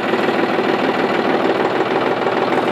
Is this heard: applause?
no